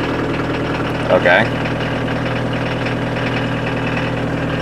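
A VW Rabbit diesel engine idles with a steady, low, rough clatter like a tractor, close and continuous, while a person briefly speaks over it.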